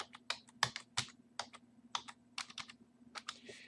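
Fast, close clicking of a computer keyboard as a password is typed on a Raspberry Pi setup, irregular keystrokes in quick clusters with a hum behind, ending in a final key press.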